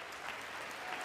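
Audience applause fills a short stretch of a played political speech, dense, even clapping from a sizable crowd with no pauses.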